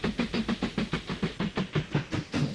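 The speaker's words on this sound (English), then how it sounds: "We've just got a train coming in." A passenger train pulling into a station in the rail-building game Mashinky, its wheels clacking in an even, rhythmic beat over the rails, close and steady with a faint hiss.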